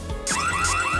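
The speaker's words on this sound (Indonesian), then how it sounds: "Alarm apa tuh?" A video game alarm sounds as a repeating rising electronic warble, several short cycles over steady background game audio, moderately loud.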